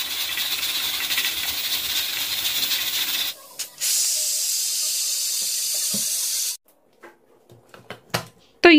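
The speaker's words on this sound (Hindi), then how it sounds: "अब मैं इसको प्रेशर लगा लूँगी।" Pressure cooker cooking mutton over a medium flame, releasing a loud continuous hiss of steam that breaks off briefly, resumes, then stops, followed by a few faint clinks.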